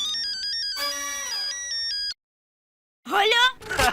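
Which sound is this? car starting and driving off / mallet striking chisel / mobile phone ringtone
mobile phone ringtone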